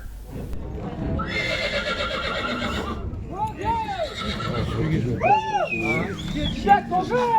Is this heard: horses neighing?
yes